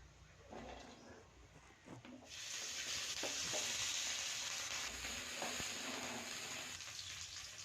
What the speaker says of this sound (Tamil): ஒரு வடை சட்டி வச்சு சின்ன வெங்காயம் பூண்டு கொஞ்சம் போட்டு கொஞ்சம் எண்ணெய் ஊற்றி நல்லா வதக்கிக்கலாம்